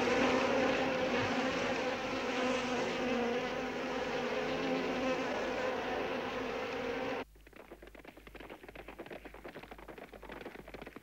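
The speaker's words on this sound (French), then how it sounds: "un satané moustique." A loud, steady insect buzz whining close by, cutting off abruptly and leaving a fainter rattling hum.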